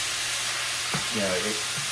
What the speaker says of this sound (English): the onions basically just are frying in their own liquid rather than in a lot of beef fat